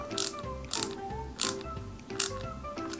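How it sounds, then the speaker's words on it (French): Small screws being driven into a Peugeot 205 GTI 1.9 model kit, with about four quiet ratcheting clicks from a screwdriver at a steady pace, close up, and no voices. "Et on va visser ça, donc on va faire les extrémités d'abord"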